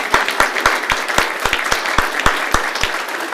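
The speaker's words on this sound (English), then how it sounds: "Let's give them a big round of applause." A school board meeting audience gives a round of applause for honored guests standing in the room: a modest crowd clapping steadily, with sharp, distinct individual claps over a continuous patter, close and fairly loud throughout.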